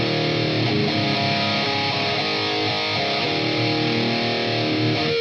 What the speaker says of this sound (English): This is the reverb separation of the two cabinets.